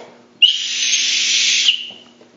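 One loud, steady, breathy whistle holds for more than a second, then stops abruptly in an otherwise quiet room.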